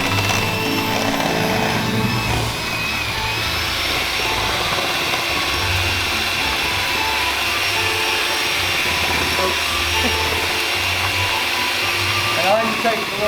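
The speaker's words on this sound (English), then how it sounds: "Now you gotta mix it with the blender." An electric blender runs at medium speed mixing milk for a no-bake dessert, a steady loud whirring drone throughout with a brief shift near the end, and a person speaks over it.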